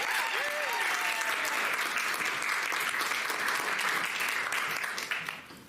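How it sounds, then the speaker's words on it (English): A show audience applauds at an adventure-serial performance, dense sustained clapping at a steady level for several seconds before it begins to fade, with a brief voice near the start. "Let's hear a big round of applause."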